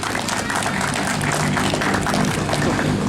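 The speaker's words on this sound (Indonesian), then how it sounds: "Tepuk tangan untuk kita semua." Audience applause at a neighborhood gate inauguration ceremony, a steady dense wash of clapping from a crowd lasting throughout, with a voice speaking underneath.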